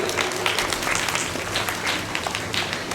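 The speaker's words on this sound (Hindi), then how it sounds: "इनके लिए एक बार फिर जोरदार तालियां" Parents and students at a school result-day award ceremony clap together, a dense, continuous round of applause with scattered sharper claps, moderately loud and without speech.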